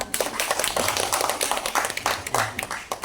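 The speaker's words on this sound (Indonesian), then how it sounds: "Mari kita aplaus bersama-sama" A group of participants at a teacher training session claps together, giving dense, steady applause from close by for about three seconds, with no talking over it.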